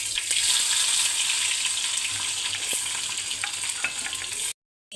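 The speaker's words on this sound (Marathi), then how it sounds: "लसूण चांगला गोल्डन होऊ द्यायचा।" Garlic frying in oil for dal palak, a steady close sizzle that runs unbroken for most of the clip and then cuts to silence near the end.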